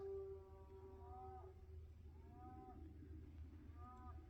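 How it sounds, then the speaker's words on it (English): Cattle lowing in the distance across quiet woodland, three drawn-out faint moos spaced a second or so apart over a low steady background hum. "So you can hear cattle off in the distance"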